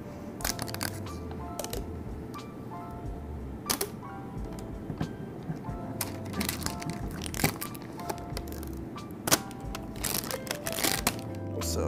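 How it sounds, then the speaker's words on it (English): Crinkly plastic packaging around an Amazon Fire TV Cube is unwrapped close up, with a steady run of crackles and sharp crinkling snaps. "Now let's unwrap this guy and take a closer look here. It's so crinkly."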